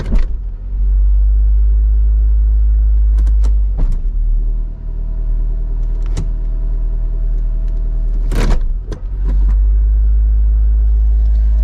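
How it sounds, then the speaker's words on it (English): A Honda Civic del Sol engine idles at a raised, steady rumble, loud and close, with a few brief clicks and knocks over the constant drone and no talk. "I'm gonna let her idle down a little bit"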